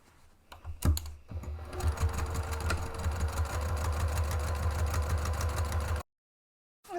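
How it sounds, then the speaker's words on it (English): A sewing machine stitches across the base of a fabric bag, a fast steady mechanical chatter lasting several seconds after a few initial clunks, then stopping abruptly. "I'm going to stitch across the base and then down the center to divide"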